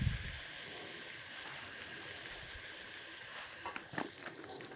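Mugwort roasts in a pan while a goose dish is prepared, a faint, even sizzle under a soft background hiss, with a couple of light taps and scrapes near the end.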